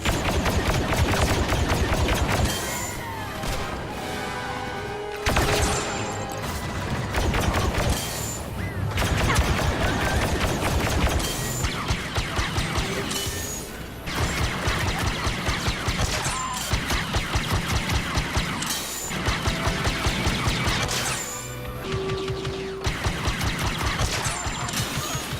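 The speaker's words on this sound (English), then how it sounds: "The baseline weapon that you get automatically that you don't have to unlock anything for is the SE-44" Officer-class SE-44 blaster pistol in Star Wars Battlefront 2 firing in quick, rhythmic bursts of sharp shots with gaps between volleys, mixed with explosions and other battle effects.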